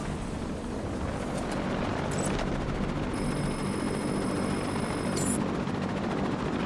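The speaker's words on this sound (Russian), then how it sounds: "Ну вот я три вижу вертолета." A helicopter in Batman: Arkham City drones with a steady, broad whirring rumble, fairly distant and unbroken, with brief sharp bursts of other game sounds over it.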